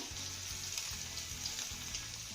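Finely chopped onion fries in a little hot oil with cumin seeds, giving a continuous bright sizzle over soft, rhythmic low thumps from stirring, close and fairly loud.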